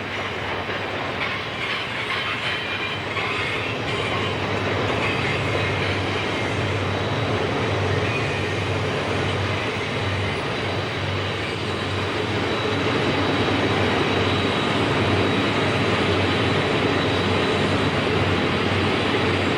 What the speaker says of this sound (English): Another eastbound grinds up the grade with a loaded coal train.